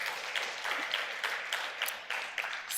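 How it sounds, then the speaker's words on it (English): An audience at a stakeholder engagement event in Cape Town gives moderate, even applause that continues steadily for a few seconds. "I think you deserve a round of applause for that"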